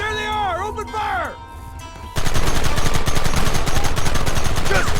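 Rapid gunfire erupts from a shootout in Red Dead Redemption, a loud, dense barrage of shots that continues steadily after a brief stretch of music and voices.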